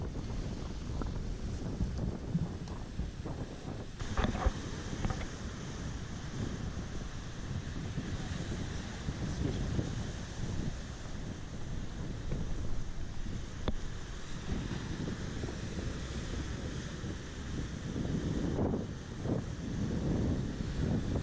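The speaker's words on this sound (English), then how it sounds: "with wind speed around 15 or 20 miles per hour" On a rough Hawaiian coast, wind of around 15 to 20 miles per hour buffets the microphone in a continuous, churning roar. Heavy surf washes underneath, with no voices.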